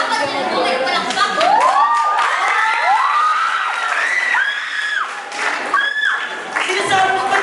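An audience at a Balagtasan debate performance cheers, whoops and claps, with bright rising shouts over steady crowd noise, loud and close throughout.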